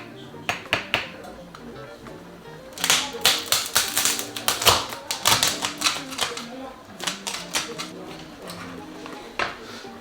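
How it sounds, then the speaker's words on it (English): A sharp knife cuts into a lobster shell on a board, giving sharp cracking crunches and clicks that cluster in the middle, with a voice talking quietly underneath. "So the first thing I'm going to do is cut this lobster"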